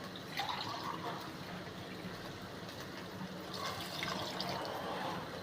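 Four tumblers of measured water are poured into a pot of native chicken biryani, a soft splashing pour that rises in two bursts, near the start and again toward the end.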